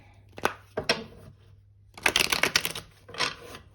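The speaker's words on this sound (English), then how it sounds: "Okay, we'll do one last shuffle." Cards riffled and shuffled in a few quick bursts of crisp flutter and rapid clicking, fairly close, with short pauses between.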